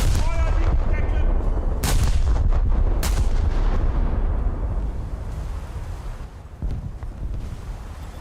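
Main guns of the battleship Scharnhorst fire shells in a naval video game, producing loud, dense booming blasts with sharp cracks, then a rumbling decay that fades toward the end.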